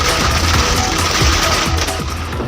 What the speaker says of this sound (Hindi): पटाखों का शो